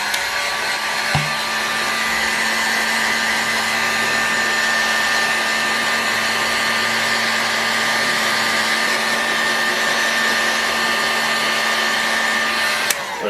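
A heat gun blows steadily while heating an Enya SS35BB model engine to free a bearing, a constant close whirring hiss with a steady tonal whine, uninterrupted for the whole stretch apart from a brief knock near the start.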